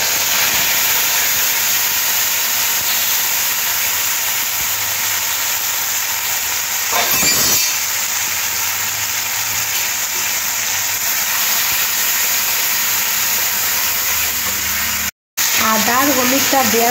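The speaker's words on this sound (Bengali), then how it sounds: "এরপরে এই যে আদা আর হলুদটা দিয়ে দেব।" Ginger and turmeric hit hot oil in a pan for masoor dal with drumsticks, a loud continuous sizzle and hiss running steadily throughout, with a brief gap near the end.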